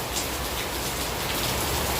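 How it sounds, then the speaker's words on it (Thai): Steady rain pours down in front of a house, a dense, continuous hiss of drops hitting surfaces, loud and close throughout with no voices. "เสียงฟ้าเสียงฝน"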